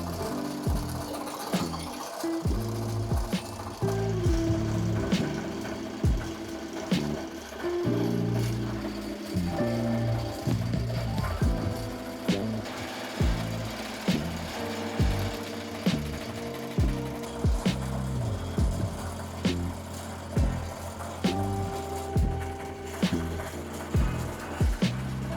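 Embroidery machine stitching a satin stitch font onto a minky blanket, a continuous close mechanical hum with a fast stitching rhythm and periodic sharp clicks and knocks as it shifts, running steadily with no talking.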